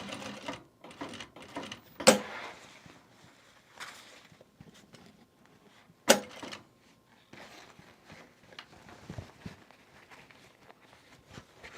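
A sewing machine back stitching a self-drafted bag, heard in short uneven bursts with pauses and a couple of sharp clunks between runs, close and fairly quiet.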